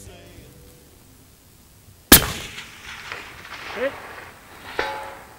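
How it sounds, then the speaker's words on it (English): A long-distance rifle shot at a 640-yard target cracks loudly and abruptly after near silence, followed by a fading echo, faint distant reports and brief background voices. "640 yards on my first shot."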